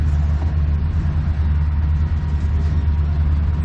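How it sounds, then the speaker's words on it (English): Five diesel locomotives running together as one consist powers up and moves forward, giving a loud, steady, deep engine rumble that holds continuously without any talk. "the rumble that comes from those five engines all"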